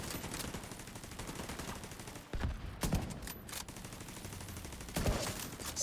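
Sniper rifle fire in a video game shootout, several sharp, loud reports spaced irregularly over a dense background of game sound.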